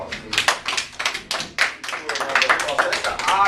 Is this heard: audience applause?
yes